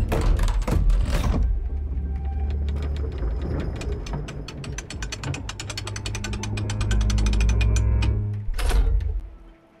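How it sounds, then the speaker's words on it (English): A mechanical bolt unlocks in the puzzle game The House of Tesla, a rapid run of ratcheting clicks and gear whirring building over several seconds, framed by clunks at the start and end. "And unlocking the bolt."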